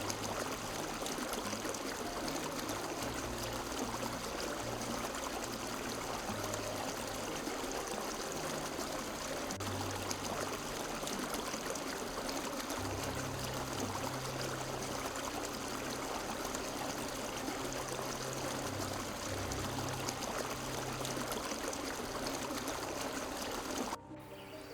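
A river on Vancouver Island rushes steadily and close by, an unbroken wash of flowing water that holds even for nearly the whole stretch and cuts off abruptly at the very end.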